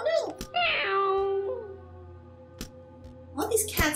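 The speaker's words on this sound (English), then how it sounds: "All these cats make such silly noises." Cartoon cats in the Spooky Cats video game let out drawn-out, wavering meows, with a long one early and a brief squeak near the end, set against soft game music.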